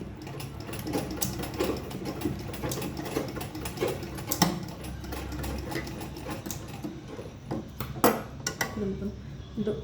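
A sewing machine runs at close range while stitching a handmade purse, its rapid mechanical rattle coming in bursts with small metallic clicks, and a voice speaks intermittently over it.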